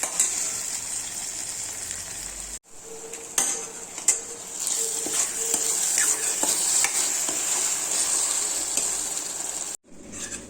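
Tomato puree hitting fried onions in a pan for egg curry, giving a steady loud sizzle with repeated spoon scrapes and clinks against the pot, broken by a brief pause near the start and end.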